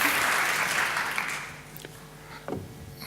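Applause for the team helping run a design conference, loud and dense at first, then thinning and fading over the final seconds as a few stray handling knocks come through.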